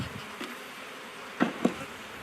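A honeybee swarm settling outdoors, a close steady buzzing drone from many bees with a couple of brief louder passes as individual bees fly near.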